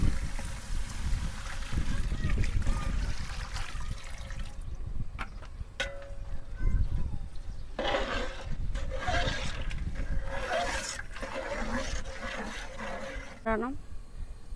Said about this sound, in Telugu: కొన్ని వాటర్ వేసుకుంటాను.